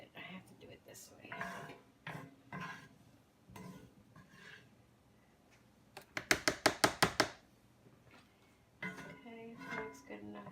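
A utensil scrapes the last bit out of a heavy cooking pan during Thanksgiving cooking. About eight quick, rhythmic metallic scrapes and clinks come in a close run, with conversational speech before and after.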